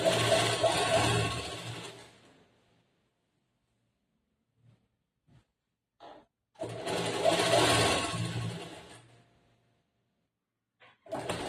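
A sewing machine stitches a long umbrella frock in two bursts of rapid, steady whirring, each about two seconds long, separated by quiet gaps with small clicks and handling knocks, close and fairly soft.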